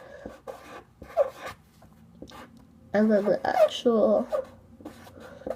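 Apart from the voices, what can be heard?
writing with a Sharpie on paper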